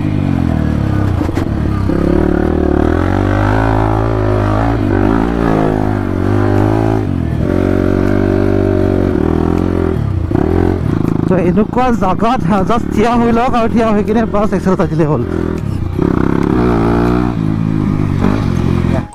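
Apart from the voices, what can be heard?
dirt bike engine running and revving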